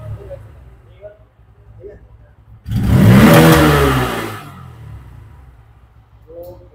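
A Bajaj Pulsar N160 motorcycle engine revs hard in one loud burst for a couple of seconds, then drops back to a low idle rumble.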